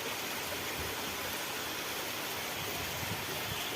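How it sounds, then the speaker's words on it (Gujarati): Rainwater rushing steadily through a village stream channel after very heavy rain, a continuous broadband roar with no breaks, moderately loud and unaccompanied by talk. "વેંકળામાં ચાલુ છે પાણી"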